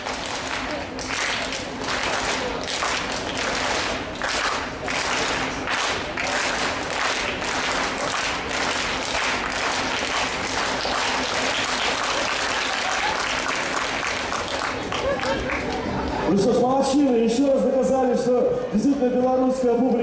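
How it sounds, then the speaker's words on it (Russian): An arena crowd at a Great Britain versus Argentina match claps in loud, sharp, rhythmic unison bursts on cue, then the clapping gives way to a voice speaking over the crowd. "Давайте так, когда показываю на вас, вы хлопаете один раз. Когда на вас, вы два раза."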